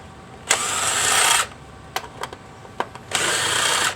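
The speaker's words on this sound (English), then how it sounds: "you'll want to take all the Torx out of the clutch cover" A power drill whirs in two short bursts, removing Torx bolts from the clutch cover of an Arctic Cat Wildcat, with light metallic clicks and taps between the bursts.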